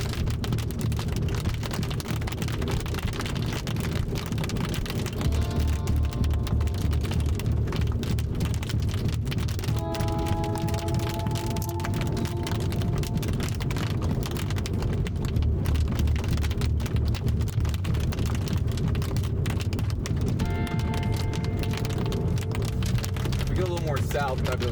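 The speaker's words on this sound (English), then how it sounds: "Granted, this hail hasn't been too bad here" Rain and hail drum on a vehicle during a tornado storm chase near Braman, Oklahoma, a dense, continuous roar with occasional sharper impacts, while a voice talks at intervals over it.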